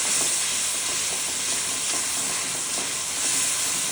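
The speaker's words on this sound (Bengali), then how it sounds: "এবার মশলাটা খুব ভালোভাবে কষিয়ে নিতে হবে" Ground coriander and cumin masala for a boal fish curry with eggplant fries in hot oil, giving a loud, dense, unbroken sizzle close by, with soft stirring scrapes and no voices.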